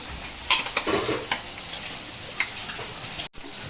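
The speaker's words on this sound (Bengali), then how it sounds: "আমার সব মাছগুলি ভাজা হয়ে গেল" Katla fish pieces fry in an oiled pan with a close, continuous sizzle, punctuated by sharp spatters and stirring clicks, before the sound cuts out briefly near the end; nobody talks.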